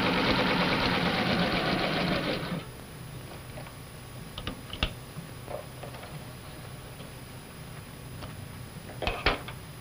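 A sewing machine stay-stitches the neckline facings of a jumper in a 1956 sewing film, a dense steady whir for about two and a half seconds that stops abruptly, leaving faint scattered clicks.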